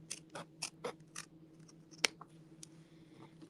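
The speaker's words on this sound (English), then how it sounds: "I want to cut fairly close to that little line that I stitched." Scissors snip through fabric close to a stitched sewing line: a quiet run of close, crisp cuts in an uneven rhythm, with one sharper snip near the middle and no speech.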